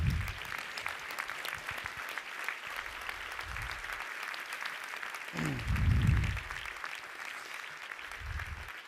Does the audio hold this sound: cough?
no